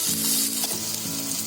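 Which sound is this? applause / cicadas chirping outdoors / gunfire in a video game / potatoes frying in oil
potatoes frying in oil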